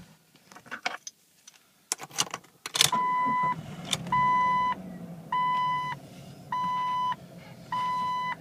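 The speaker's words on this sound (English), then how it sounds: "we'll go inside and do a quick startup and drive on the vehicle." A Jeep Cherokee XJ Sport with 80k miles is started up; a key rattles and the engine catches, followed by a settled idle and a steady series of evenly spaced electronic chime beeps, all close and clear.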